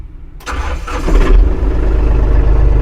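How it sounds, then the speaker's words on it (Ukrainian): A Yanmar EG 227 compact tractor's small diesel engine cranks briefly, catches and fires up, then settles into a loud, steady idle close by. "Зараз я вам продемонструю, як тракторець запускається"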